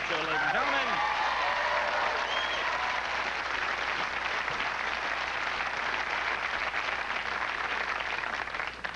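A late-night television studio audience applauds loudly and continuously, a dense wash of clapping that holds steady for the whole stretch, with a voice speaking briefly over it at the start.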